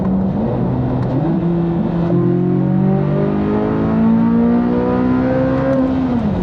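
A Chevrolet Corvette C8 Z06 engine revs hard during an acceleration pull, its loud, smooth tone climbing steadily through the gears with brief shift dips, heard close from inside the car.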